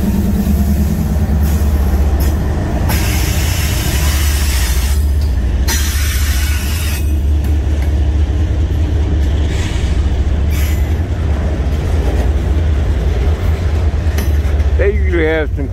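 A freight train hauling auto rack cars rolls past close by, with a loud, continuous low rumble and clatter of wheels and a brief squeal near the end.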